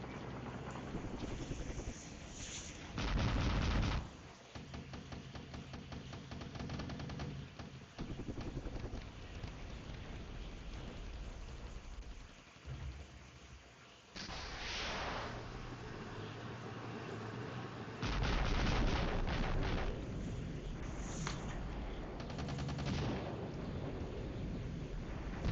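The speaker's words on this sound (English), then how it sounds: "the enemy's artillery seems to be tasked out on shooting directly at the objectives" Artillery fire in the video game FCSS: several heavy, broadband booms and rumbling bursts spaced across a continuous windy, droning battlefield background, some distant and some closer and louder.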